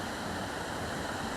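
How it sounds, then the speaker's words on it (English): Rushing river water forced through the narrow rocky gully of the Strid near Barden Bridge, a steady, dense roar with no breaks, filling the background at moderate level. "You may be able to hear that water in the background."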